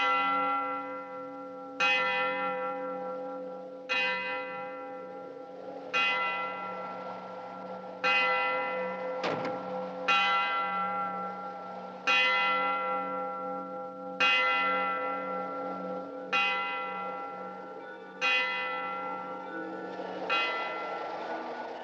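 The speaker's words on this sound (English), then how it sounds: "did you hear the bell?" A church bell tolls steadily about every two seconds, each stroke ringing out and decaying before the next, with a faint second bell tone in the background.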